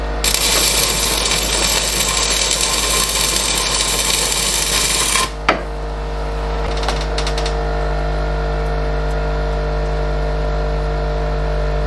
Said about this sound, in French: Quand t'entends le métal qui tire comme ça, c'est que c'est pas mal.